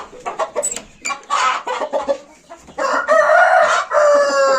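Chickens cluck loudly and close by in busy bursts, and a rooster crows in long drawn-out calls that dominate the second half.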